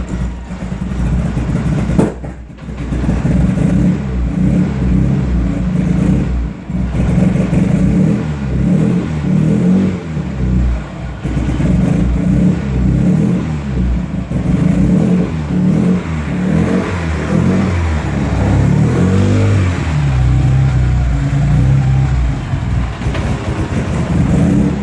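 A 600 hp Mitsubishi Evo running on E85 is held on the throttle. Its engine roars loud and close in a dense, continuous drone that swells and eases slightly with the revs and never drops away.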